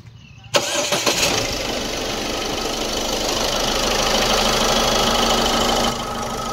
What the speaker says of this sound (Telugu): ఇంజన్ స్టార్ట్ చేసి చూడుపు